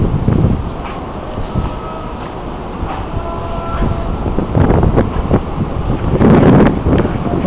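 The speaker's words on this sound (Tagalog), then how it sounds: "Ang lakas ng hangin" Strong wind buffets the microphone outdoors at Namba Parks in Osaka, a loud, rough rumble that swells in gusts and builds again toward the end.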